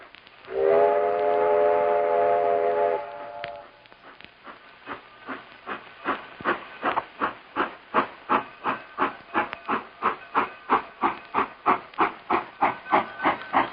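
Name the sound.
steam train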